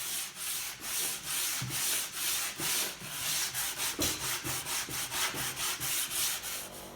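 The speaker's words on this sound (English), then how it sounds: "used my radius sanding block and some 220 grit sandpaper to sand the dots level" Rhythmic back-and-forth sanding strokes with a radius sanding block and 220 grit sandpaper on a guitar fretboard, close and steady, about two to three strokes per second with no talking.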